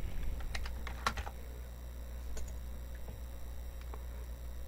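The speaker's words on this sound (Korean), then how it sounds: "이렇게 백스페이스 바 누르고" Computer keyboard keys click in quick, uneven bursts of sharp taps, close and fairly quiet, with a few louder strokes and no talking.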